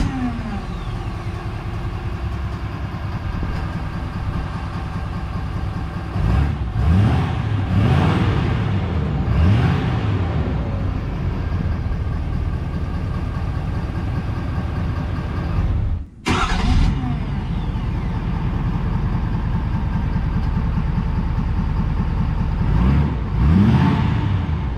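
A 2022 Ford F-250 Platinum with a 6.7 diesel and Banks 5-inch DPF-back exhaust cranks up and idles, then gives several rising and falling revs with a brief cut partway through, close and loud.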